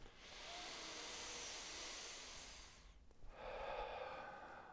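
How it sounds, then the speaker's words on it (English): A big, deep breath taken during a breathing exercise for Parkinson's disease: a long, soft airy inhale of about three seconds, a brief pause, then a stronger rushing breath, close and quiet. "Big, big, big breath."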